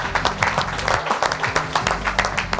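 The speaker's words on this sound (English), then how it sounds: "give a round of applause to yourselves" Business networking meeting audience clapping for themselves, a loud, dense round of applause with rhythmic pulses and some low music or murmuring underneath, sustained across the whole stretch.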